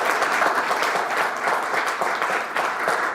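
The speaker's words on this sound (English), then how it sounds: "So please, a great round of applause for these 2 gentlemen." Dense, steady audience applause at a company annual general meeting, many hands clapping loudly and continuously without a break, close and full-bodied with no talk over it.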